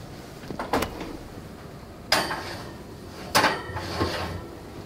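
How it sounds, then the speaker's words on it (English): An oven door on a 350-degree oven handled as a caramel nut tart goes back inside, heard as a few sharp clunks and bangs spaced over several seconds, fairly close, with no talk. "we'll pop that back into our 350-degree oven for 25 minutes"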